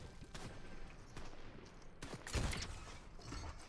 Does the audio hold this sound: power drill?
no